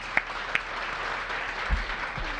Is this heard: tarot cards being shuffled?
no